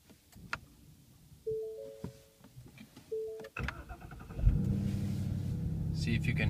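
A 2015 Ford Mustang GT Performance Package started with the push button from inside the cabin: a short electric starter crank is followed by the engine catching and settling into a loud, steady rumbling idle, with a few clicks before it.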